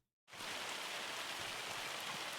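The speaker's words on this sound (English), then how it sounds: "We are getting a little hail, I think, right now" Hail falling in the Farming Simulator 25 game world comes in as a dense, steady hiss of pattering impacts, starting suddenly after a brief silence and staying even and soft.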